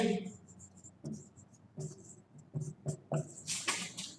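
Chalk or marker writing on a board in a classroom, short scratchy strokes in quick bursts, faint and close, with a teacher's voice speaking between and over the strokes.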